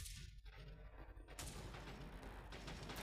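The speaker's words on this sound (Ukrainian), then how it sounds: "Хтось у мене шмаляв." Gunfire in the World War Heroes video game: loud, noisy bursts and cracks over a dense battle din, with sharp reports at about 1.4 and 2.5 seconds standing out against continuous rumbling background noise.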